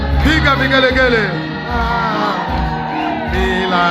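A church congregation ululates and cheers: high, warbling trills and whoops from many voices overlap in a loud, continuous wave of crowd noise.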